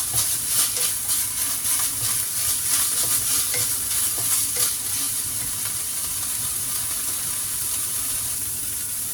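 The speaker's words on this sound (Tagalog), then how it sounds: "paparender ko lang muna yung fats nitong minced pork para kunti na lang yung dadagdag kong mantika" Minced pork frying in a pan as its fat renders, with a steady, close crackling sizzle and occasional stirring scrapes throughout, no voices.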